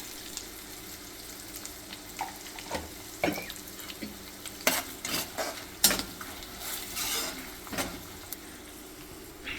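Urad dal, curry leaves and turmeric frying in hot oil for mango pulihora, a steady close sizzle broken by scattered louder crackles and stirring scrapes, with no talking.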